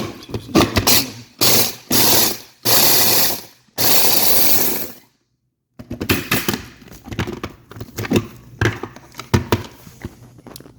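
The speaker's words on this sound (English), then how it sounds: "now we're going to grind the other ones" An electric grinder whirs in several loud bursts as it grinds dried cayenne, jalapeño and serrano peppers into flakes, then pauses briefly before a stretch of rattling, choppy grinding.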